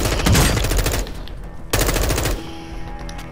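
Rapid automatic gunfire from Call of Duty Modern Warfare II, two dense sustained bursts separated by a brief pause, loud and close, with a softer mechanical tail afterward.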